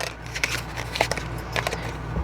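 Soft papery riffling of oracle cards being shuffled, a few crisp flicks and taps standing out over a steady low hum, no voices.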